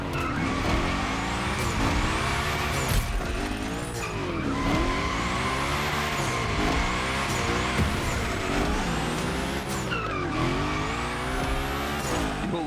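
Car tires in The Crew Motorfest gymkhana driving squeal loudly and continuously through long slides, with a revving engine rising and falling underneath.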